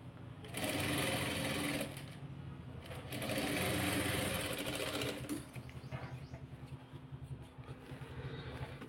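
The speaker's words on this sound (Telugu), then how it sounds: "నిమ్ముడుకుంటూ జాగ్రత్తగా స్టిచ్చింగ్ చేసేసుకోవాలి ఇలా." A sewing machine stitches a blouse in two loud, steady whirring bursts with a pause between, followed by quieter fabric handling and soft mechanical sounds.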